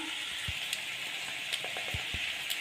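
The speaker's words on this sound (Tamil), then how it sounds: "தக்காளி நல்லா வதக்கிக்கலாம்" Chopped tomatoes sauté in a pan for a dosa side dish, a soft steady sizzle with a few low stirring taps underneath, faint and even throughout.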